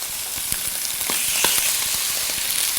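A scallop laid in a very hot pan gives a loud, close, continuous sizzle, with scattered spits and pops crackling through the steady hiss.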